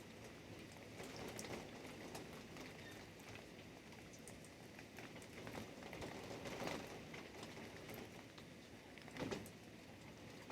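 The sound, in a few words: nighttime rain in a thunderstorm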